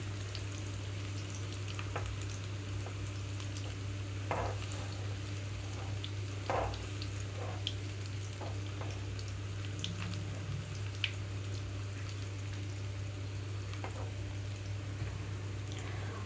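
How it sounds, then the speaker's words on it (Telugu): Brown bread pieces fry in a pan for double ka meetha, a steady, soft sizzle running throughout with occasional light stirring and scraping taps, close and even with no talk. "వీటన్నిటిని కొంచెం కలర్ మారే వరకు వేయించి పెట్టుకోవాలి."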